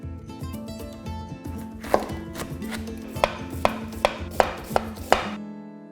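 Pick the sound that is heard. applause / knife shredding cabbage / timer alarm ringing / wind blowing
knife shredding cabbage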